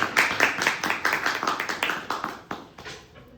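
Scattered applause from a small Toastmasters club audience, a dozen or so distinct claps in a loose rhythm that thin out and fade after about three seconds.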